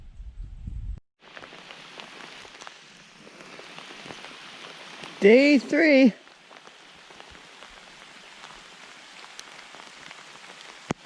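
Steady rain patters on a backcountry campsite in the Massasauga area, a continuous close hiss of drops on surfaces, while a voice briefly speaks partway through.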